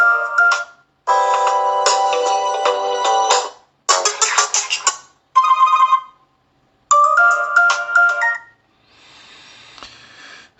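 Oukitel WP8 Pro smartphone ringtones sampled one after another, several short bright melodic bursts separated by brief silences, loud and close, ending in a faint tail.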